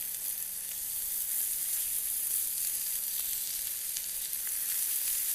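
Lamb chops searing on a barbecue grill give off a steady, even hiss of sizzling fat, moderately loud and unbroken, with faint pops scattered through it.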